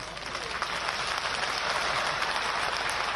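Audience applause at a public address by Chief Minister Shivraj in Madhya Pradesh: steady, dense clapping from a crowd that fills the whole stretch at an even level, with no voice on top.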